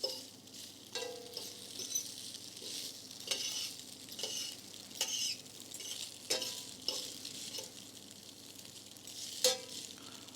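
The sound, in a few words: spaghetti tossed in a pan with olive oil and butter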